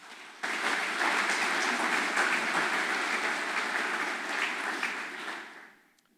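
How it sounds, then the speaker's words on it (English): Audience at a public safety awards ceremony gives a full round of applause that starts abruptly, holds steady and dense for several seconds, then tapers off to quiet. "Please let us give them all a round of applause."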